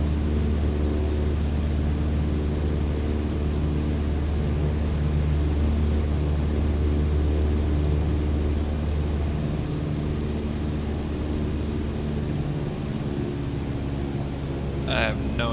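A steady, droning light-aircraft engine in Microsoft Flight Simulator holds a constant rumble as the throttle is eased back, with a brief faint click near the end.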